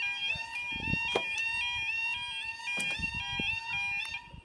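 A level crossing warning alarm at Wansford Road in Driffield, Yorkshire, sounds as a steady, faint, continuous two-tone electronic wail heard from outdoors, with scattered low rumbles and knocks around it and no talking.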